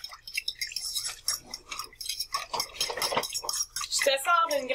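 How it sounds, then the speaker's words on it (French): A fork stirs a mixture briskly in a bowl, giving rapid scraping and clinking strokes under a lively kitchen scene where people talk over it. "Lucas, avec la fourchette, là, tu brasses fort."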